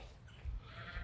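A sheep bleats faintly and briefly on a farm, a short soft call from some distance.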